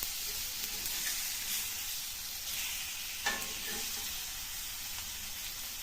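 Fish gravy with curry leaves simmers and sizzles in a pan, a steady close hiss with faint bubbling pops and one brief louder crackle, with no voices over it.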